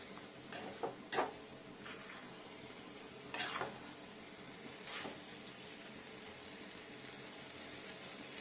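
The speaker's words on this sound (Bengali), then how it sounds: "খুব সুন্দর স্মেল হয়ে গেছে মাছের মাথাটা। একটু ভাজা ভাজা করি।" A rohu fish head fries in hot oil in a pan, giving a steady low sizzle with a few sharper crackles and pops standing out near the start and middle.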